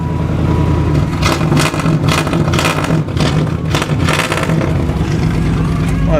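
A Terra Jet amphibious vehicle engine on a cold start, running loud and steady with repeated revs rising and falling throughout.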